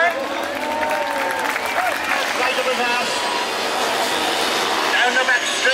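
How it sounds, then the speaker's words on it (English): Crowd applause at a motorcycle display at Onchan Park on the Isle of Man, steady moderate clapping from spectators with engine noise and talk mixed in throughout. "how about a big round of applause"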